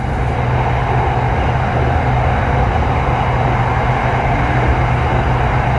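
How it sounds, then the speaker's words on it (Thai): Electric sky train passing in Bangkok, a dense, loud, continuous rumble of wheels and motors that holds steady throughout, with no one talking. "อุ้ยรถไฟฟ้านะฮะ"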